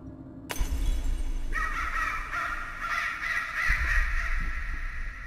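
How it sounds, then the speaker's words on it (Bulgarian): Crows cawing in the horror video game Layers of Fear, harsh and loud caws layered over a steady eerie backdrop, following a sharp crack at the start. "Са тия гарги, бе."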